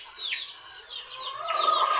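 Hens and roosters in a poultry breeding pen cluck and squawk in a few sharp, rising calls, close and fairly loud, with quieter bird noise in between.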